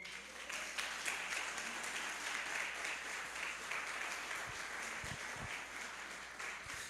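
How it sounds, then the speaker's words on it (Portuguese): A church congregation applauds during a service, a sustained wash of many hands clapping, steady throughout with a few low thumps near the end and no one speaking. "Um aplauso ao Senhor."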